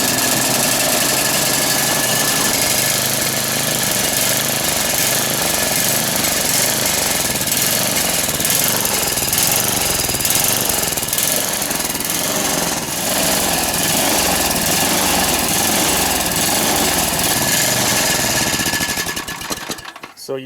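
A snowblower engine with a new spark plug and a carburetor problem runs loud and close, its steady chugging rising and falling in a repeated surge for about nineteen seconds before cutting off at the end.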